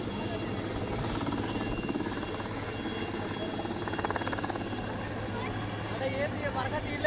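Steady Sea King helicopter rotor drone with a low engine rumble at a navy show, continuous and fairly loud, with a voice speaking over it.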